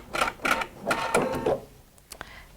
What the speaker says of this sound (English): trim my thread